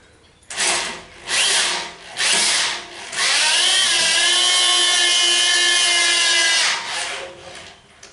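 A power drill bores into a welded part from a 1931 Chevy clamped in a vise, starting with three short revving bursts, then a long steady grinding whine that holds for several seconds before winding down, loud and close with no talk.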